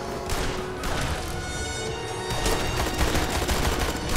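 Gunfire from the video game Blues and Bullets, with repeated sharp shots cracking in quick bursts. A denser, louder volley of fire with heavy thumps takes over in the second half.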